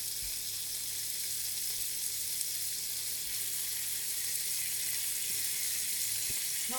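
Bacon fries in a pan for Swedish plankstek, making a faint, even, continuous sizzling hiss with no pauses.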